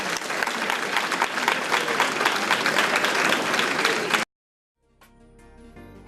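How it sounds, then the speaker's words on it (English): Audience applause at a homecoming alumni banquet for the 2013 king and queen, a dense steady burst of clapping lasting about four seconds that cuts off abruptly, followed by a brief silence and faint rising background sound. "Let's give them a round of applause."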